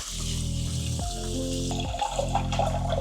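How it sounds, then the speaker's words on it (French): Cold tap water running over cooked pasta in a kitchen, a continuous close rushing stream with a steady tonal hum beneath it and slight shifts as the flow hits the pasta. "je vais les passer sous l'eau froide évidemment pour les refroidir"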